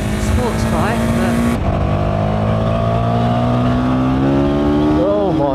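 A KTM motorcycle engine drones loudly and steadily while riding, its pitch climbing through the gears, with strong wind rush and a voice speaking over it.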